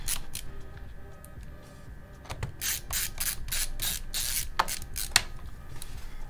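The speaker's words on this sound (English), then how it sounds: "And then as you're screwing these in" Screws being driven into a Dell Inspiron 5567 laptop during a battery replacement, giving soft scraping and grinding with irregular small clicks and ticks, close and fairly quiet.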